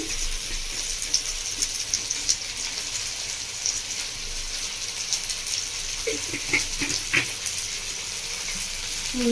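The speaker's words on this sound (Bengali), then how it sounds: "মশলার মধ্যে জল দিয়ে নিয়েছি" Water poured into sizzling spice paste for a Bengali village-style fish curry, giving a steady hissing gush with a few sharp crackles near the end and no speech.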